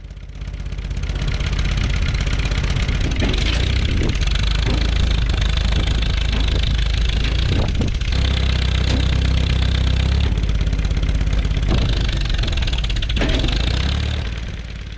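A Farmall H tractor engine running steadily as the tractor is driven, a loud, close, chugging mid-pitched drone with occasional knocks and clanks, continuous throughout.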